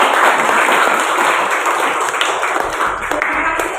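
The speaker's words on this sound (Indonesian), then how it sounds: "tepuk tangan untuk kita semua" A classroom of students applauds at the end of a practice teaching lesson, a dense burst of many hands clapping close by, steady for several seconds then thinning slightly.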